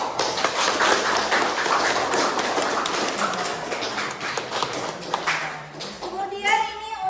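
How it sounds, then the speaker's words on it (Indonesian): Classroom applause for a student group, a dense patter of many hands clapping close by for several seconds, then fading as a teacher's voice and children's talk take over near the end. "Kita kasih tepuk tangan."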